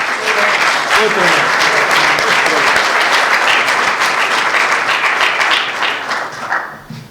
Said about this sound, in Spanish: le vamos a dar un muy fuerte aplauso para recibirlo